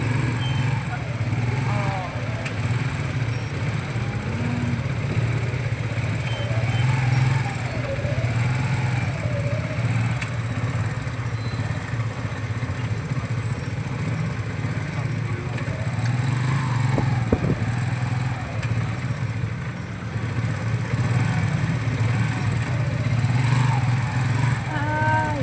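Heavy road traffic with trucks in rain and wind: a continuous low engine rumble from passing vehicles, with rising and falling whines and brief higher tones, steady and fairly close throughout.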